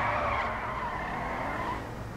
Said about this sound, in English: I'm about to drift this